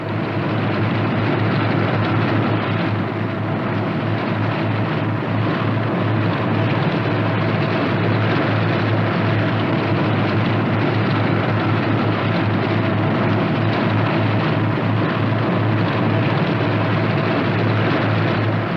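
A twin-engine Northrop P-61 Black Widow taxis with both engines droning in a steady, loud, continuous hum that never lets up, a low throbbing rumble with no voices over it.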